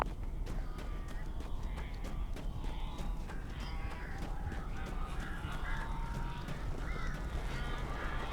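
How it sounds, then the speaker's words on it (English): Crows caw repeatedly in the video game Alan Wake, sharp scattered calls over a steady low background rumble, fairly faint and distant, with no speech. "These birds are weird."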